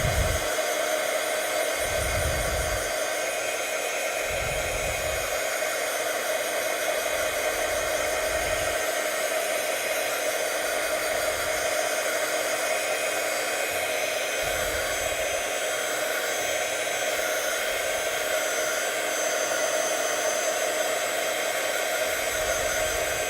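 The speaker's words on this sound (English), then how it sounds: "I'm gonna try to put my heat tool in, so we can zap this, so we can heat it up faster." Steady, loud whooshing blast of a heat tool drying watercolor paint, running unbroken throughout with faint low thumps as it moves, and no talking.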